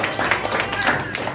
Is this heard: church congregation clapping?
yes